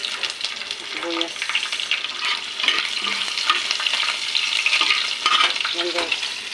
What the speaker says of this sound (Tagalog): naggisa na ako ng bawang